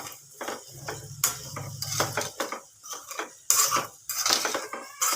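Peanuts and sesame seeds get mixed in a pan with a metal spoon, producing close, irregular clanks and scrapes against the pan in uneven bursts with brief pauses.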